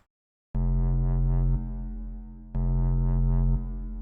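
Two sustained synth tones pass through Ableton's Echo device with its built-in filter switched on, each starting abruptly, holding, then dropping to a darker, fading echo tail, the second tone repeating the pattern.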